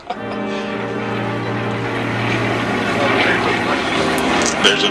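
A B-25 Mitchell bomber lands at an air show, its piston engines droning loud and steady with a deep tonal hum that swells slightly toward the end.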